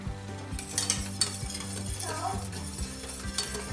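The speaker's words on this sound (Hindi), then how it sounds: "इसको हम मिक्स कर लेंगे" A spoon stirs hot homemade chocolate sauce after butter and vanilla essence are added, with a steady scraping and swirling against the pan, soft clinks and a faint sizzle underneath, close and moderately loud.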